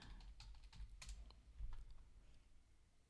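Computer keyboard typing during a mobile development class, a quiet close run of irregular key clicks and taps, some in quick bursts, with no talking.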